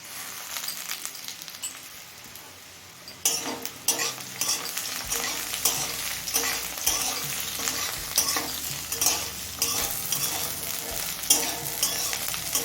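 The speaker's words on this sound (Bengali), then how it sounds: "এবার দিচ্ছি কয়েকটা চেরা কাঁচা লঙ্কা আর দিচ্ছি কুচি নেওয়া ছোটো সাইজের চারটে পেঁয়াজ" Sliced onions and split green chillies go into a pan with fried potato and sizzle in oil, and a spatula stirs and scrapes them steadily. It starts quieter, then grows loud and busy with frequent scraping strokes.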